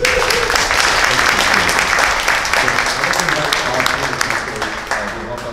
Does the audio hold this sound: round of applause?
yes